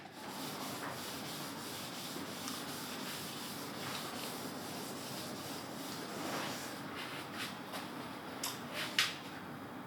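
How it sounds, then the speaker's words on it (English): Block sander with 800-grit paper rubbing back clear-coated paint on a Honda CX500 motorcycle tank, a steady close scratchy hiss of repeated strokes with no talking. "Now I'm just sanding it all back with a block sander and 800 grit"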